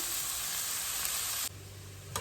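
Chicken sizzles loudly in a hot pan for a buğu kebab, a dense, steady frying hiss that drops abruptly to a quieter simmer partway through, followed by a brief clink near the end.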